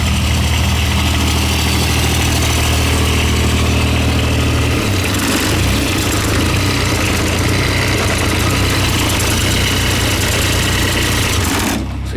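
A John Deere 430 lawn tractor engine idles loudly up close with a steady rough chug, shifting in tone partway through before cutting off at the end.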